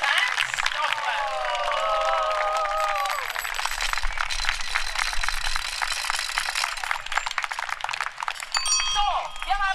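A crowd at a bicycle demonstration applauds the police. Voices come first, then a burst of scattered clapping and rattling with a few whistle-like tones, all heard from close amid the outdoor gathering.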